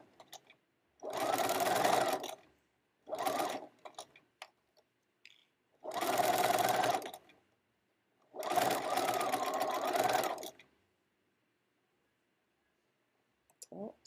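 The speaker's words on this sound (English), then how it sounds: "So I'm just sewing those two layers together" A sewing machine stitches two fabric layers of a heart-shaped zippered pouch in four close bursts of rapid mechanical whirring, separated by quiet pauses.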